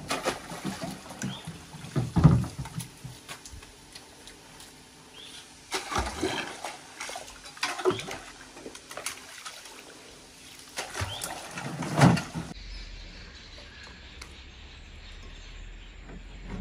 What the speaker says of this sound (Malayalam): ആ സൈഡിൽ നിന്നൊക്കെ നല്ല ഉറവ് വരുന്നുണ്ട്.